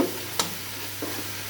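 Tomatoes with garlic frying in oil while being stirred, a steady soft sizzle with a couple of brief scraping strokes, close and alone.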